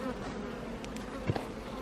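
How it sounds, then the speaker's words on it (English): A honeybee buzzes close around the camera during a beehive inspection, a sustained drone that swells briefly as it passes near, with no talking. "That bee does not like my camera."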